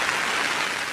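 Steady monsoon rain pours without a break in Mandvi, a continuous, even hiss that fills the whole second with no voices.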